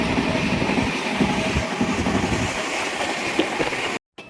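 A passenger train runs on rails on a long journey from Nandurbar to Chandigarh, a steady loud rumble with faint rhythmic clatter that cuts off abruptly at the end.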